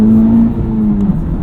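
2023 Honda Civic Type R engine revving steadily while cornering with traction control off, a continuous loud close drone holding a sustained tone throughout.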